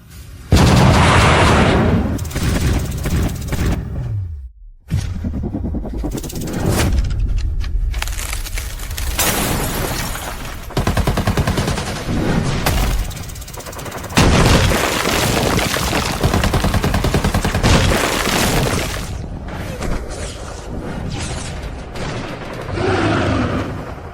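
Dense animated battle gunfire: loud repeated bursts, cracks and booming blasts pile up nearly continuously against a giant monster, with brief gaps between volleys.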